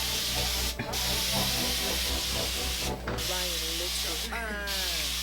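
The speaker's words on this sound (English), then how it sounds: "Okay, so spray bottle." A spray bottle of water spritzes onto hair during a styling session, with three short, sharp hissing bursts spaced a couple of seconds apart over a steady background voice.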